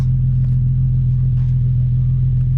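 An Infiniti G37S fitted with a Beluga aftermarket exhaust idles with a steady, loud, deep low rumble that holds even throughout.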